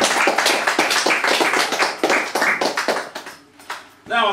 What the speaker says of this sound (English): so more applause please for P.R.